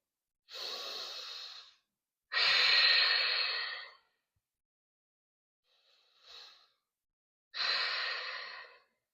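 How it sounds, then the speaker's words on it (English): Deep full breaths during a yoga stretch for tight hamstrings, heard close: slow airy inhales and exhales in separate bursts with quiet pauses between them, and one faint shorter breath in the middle. "Let's take a couple more full breaths here."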